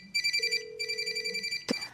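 A telephone ringing in a dubbed Korean drama scene, two short bursts of a bright electronic ring followed by a brief knock-like thud, fairly faint with no talk.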